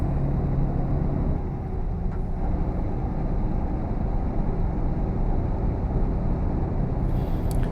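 A truck's engine drones steadily from inside the cab, a constant loud low rumble with road noise and no clear rise or break, and no one speaking over it.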